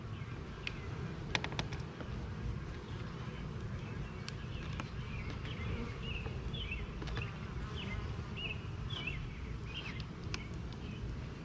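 A steady buzzing of many bees fills the air, constant and close, with occasional higher insect whines and faint bird calls behind.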